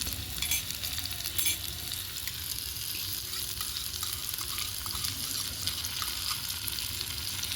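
Ginger garlic paste frying in a pan with tomato and chopped onion while cooking rohu fish kofta, giving a steady close sizzle with occasional stirring scrapes throughout.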